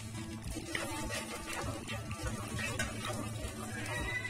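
Masala spices crackling in oil in a pan while chana masala is cooked: a faint, dense, steady sizzle with small irregular pops, close by and continuous, with no voices.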